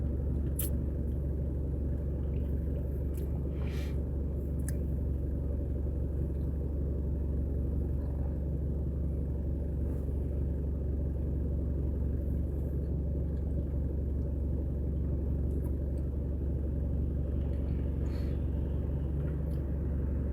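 A car driving by on a road, heard as a steady, close low rumble that holds constant for the whole stretch, with faint clicks and no speech.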